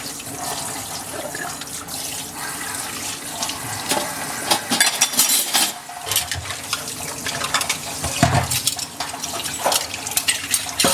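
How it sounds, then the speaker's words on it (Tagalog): A bowl is rinsed under a running kitchen tap, the water streaming steadily with splashes and clatter of the dish in the sink, no talking. "Hugasan ko lang."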